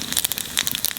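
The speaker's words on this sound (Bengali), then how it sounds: "তেলের উপর কটা জিরিয়ে দেবো" Cumin seeds dropped into hot oil for a pointed gourd dish, giving a close, loud burst of rapid crackling and spitting sizzle, dense and continuous for about a second with no talking.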